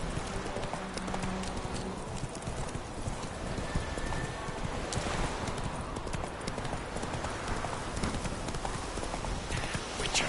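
Roach the horse from The Witcher gallops with rapid, continuous hoof clip-clop and a brief whinny, loud and close, over game ambience.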